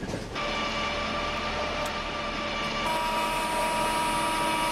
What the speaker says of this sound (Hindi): यहाँ पे आप वैब 7 के इंजन का साउंड सुन सकते हो